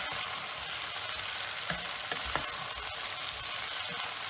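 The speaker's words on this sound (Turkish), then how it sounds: "Yemeğimizi bir daha karıştıralım." A vegetable dish with peppers frying in a pan and being stirred, giving a steady broadband sizzle with a few scraping stir strokes in the middle, close and continuous with no talking.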